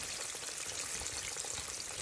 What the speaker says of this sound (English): Should be a nice gentle fry.